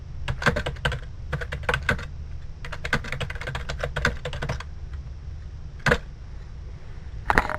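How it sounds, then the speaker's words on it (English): Computer keyboard keys clatter in quick bursts of typing, close and fairly quiet, with short pauses between runs and a couple of isolated keystrokes near the end. "Now we can start typing our text."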